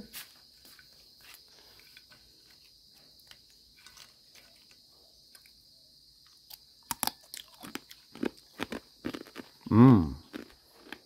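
Crisp crunching of cooked sweet potato chips being bitten and chewed, a burst of crunches toward the end, over a steady high insect-like whine.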